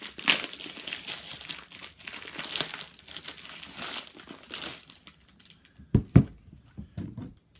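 A small cardboard box sealed with too much tape is torn open, with loud crinkling and ripping up close for several seconds, then quieter rustling and a couple of sharp thumps near the end.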